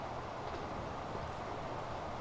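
Russian diesel locomotive in Transport Fever rolling slowly along the track, a steady low rumbling drone with broadband rail noise, continuous and fairly distant, no talk.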